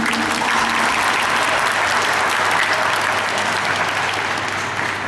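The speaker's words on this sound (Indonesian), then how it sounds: "Boleh kita berikan tepuk tangan sebelumnya?" Loud, sustained applause from a large audience of students, teachers and parents during a high school visit to Jenderal Soedirman University in Purwokerto, a thick continuous roar of clapping that eases off slightly at the close.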